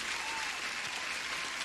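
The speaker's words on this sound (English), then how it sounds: "you deserve an applause" A crowd claps in steady, dense applause that sounds somewhat distant and holds constant throughout the short stretch, with no talking over it.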